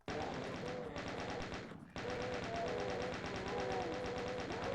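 Chaingunner enemies in Doom II fire sustained rapid-fire bursts, loud and steady, with one short gap in the middle; a voice talks over the gunfire.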